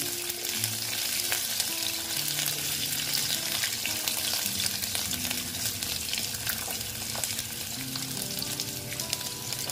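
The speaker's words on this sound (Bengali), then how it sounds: "আলুগুলো দিয়ে আলুগুলো একটু ভেজে নেব।" Potatoes frying in a pan for a vegetarian Malabar spinach dish, giving a steady, close sizzle that runs unbroken throughout, with faint stirring scrapes and low clinks beneath.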